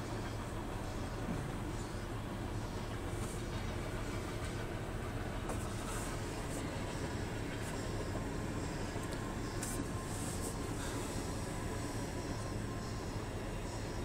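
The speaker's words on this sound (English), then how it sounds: "just got stopped by train." A Canadian National 2876 freight train rolls through Effingham, Illinois, making a faint, continuous low rumble with rail clatter and occasional high squeals, heard from a distance for the whole stretch.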